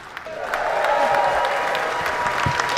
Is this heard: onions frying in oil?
no